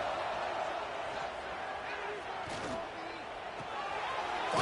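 Roaring crowd at a college football stadium, a dense continuous wash of cheering and noise pushing for a red zone defensive stop, steady and loud throughout.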